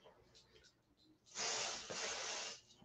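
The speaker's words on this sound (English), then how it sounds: "I think I'm going to spray this" Pixie Spray adhesive hisses from an aerosol can onto a journal page in one steady burst of about a second, close and fairly loud after a quiet lead-in.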